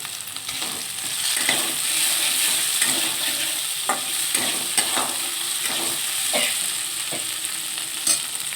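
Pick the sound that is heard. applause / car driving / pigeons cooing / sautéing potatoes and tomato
sautéing potatoes and tomato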